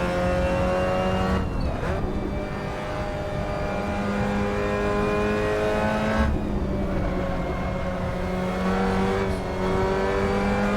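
A Spec Miata MX-5 Cup race car in a racing video game on Castrol Raceway drones with a steady, buzzing engine note that dips and climbs through gear shifts, loud and continuous with no talk.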